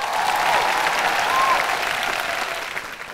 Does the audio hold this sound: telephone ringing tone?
no